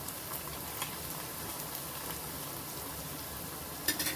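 Coriander vadi frying in oil over a low flame, a faint steady crackling sizzle throughout with a brief louder spatter near the end, no voices.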